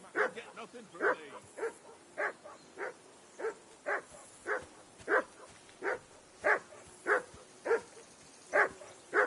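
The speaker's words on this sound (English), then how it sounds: "Whistle at that mutt of yours to stop barking." A dog in the medieval game Kingdom Come: Deliverance II barks over and over in an even, steady rhythm, about fifteen clear moderately loud barks, each close and distinct.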